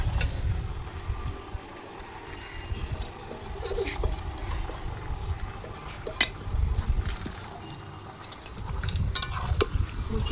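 Chicken frying with onion and cumin seeds gives a steady, close sizzle with soft stirring clicks and scrapes, and a low outdoor rumble underneath.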